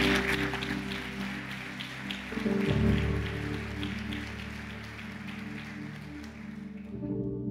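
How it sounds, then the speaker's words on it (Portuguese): A church congregation applauds, a soft continuous patter of many hands under a sustained low musical drone, steady throughout and moderately distant, with no speech. "Pode aplaudir o Senhor por isso"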